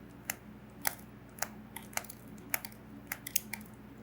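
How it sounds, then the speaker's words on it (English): Talon flush cutters fitted with a depth stop snip off small pieces of wood, giving about eight crisp, sharp clicks at fairly even intervals, close by and quiet, with no talking. "So I can just stick this in here and snip it off"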